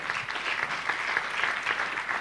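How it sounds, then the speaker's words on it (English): Audience applause for the speakers at the Africa Evidence Summit, a steady wash of many hands clapping, moderately loud and unbroken for a couple of seconds. "let's give a final round of applause to our speakers."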